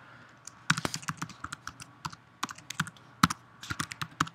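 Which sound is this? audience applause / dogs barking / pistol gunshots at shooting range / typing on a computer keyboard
typing on a computer keyboard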